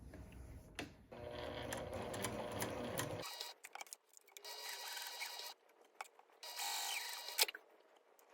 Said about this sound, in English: So I'm going to start at the top, backstitch, go all the way around, and then backstitch again